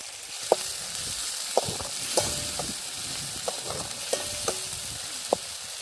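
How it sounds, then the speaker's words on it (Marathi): An onion, tomato and green chilli gravy fries steadily in a pan, with a constant low sizzle broken by sharp, scattered clinks of a spoon stirring against the metal. "पिंकी ग्रेव्ही बनवून घेते ह्याच्यामध्ये कांदा टोमॅटो आणि मिरच्या घातल्या"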